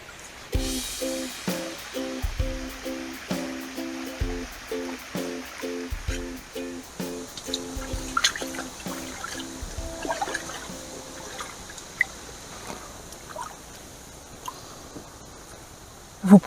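River water flowing and trickling, faint and continuous, overlaid by a regular pattern of soft pulsing tones and occasional thuds.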